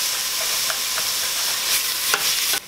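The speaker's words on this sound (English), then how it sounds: "Because this is such a hot pan, we wanna move this around quite a bit to cool off the pan and make sure we have an even cooking." Turkey chili sizzles steadily in a very hot pan while a spoon scrapes and stirs it in a few distinct strokes, close and fairly loud, with no talking.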